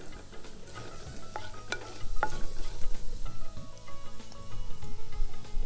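Cumin seeds crackle and sizzle in hot oil in a home kitchen pan, a steady busy frying texture with stirring clatter and occasional sharp pops, close and fairly loud with no talk.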